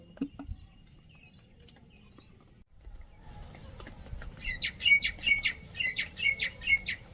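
An egret calls near a rural fishing spot, a series of sharp, rhythmic chirping squawks in the second half over quiet outdoor background, with faint clicks and rustles earlier.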